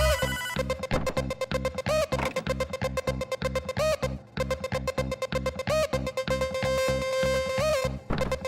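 A telephone rings repeatedly in the Hotline Miami video game, a rapid trilling electronic bell in steady bursts with short pauses, sounding alone over a low background beat.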